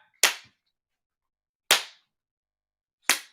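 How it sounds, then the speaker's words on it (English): Three slow, deliberate hand claps ring out close and sharp, each one isolated by more than a second of silence. "listen, while I slow clap"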